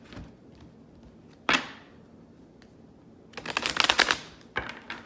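A single sharp snap of tarot cards, a pause, then a quick burst of rapid riffling as the deck is shuffled, ending with a couple of taps.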